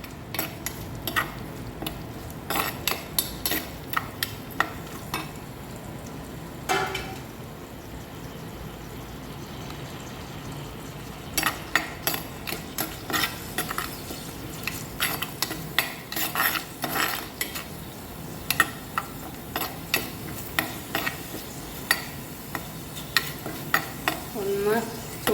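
Sardine and Chinese potato curry is stirred in a pan, with a steady low sizzle under frequent scraping and clinking of a spoon against the pan, repeating irregularly throughout.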